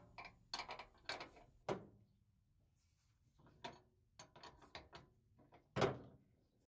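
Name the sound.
3/4 inch socket ratchet removing truck shock bolt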